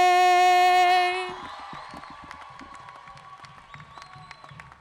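At a high school graduation ceremony, a long sung note rings out at the end of the national anthem, then gives way to scattered crowd applause and a few cheers, moderately distant in a large hall.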